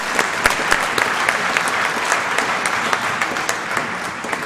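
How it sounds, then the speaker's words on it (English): An auditorium audience at a Lions Day session claps for a speaker, steady, sustained applause with scattered sharper individual claps throughout. "Let's give a big round of applause to our very learned speaker."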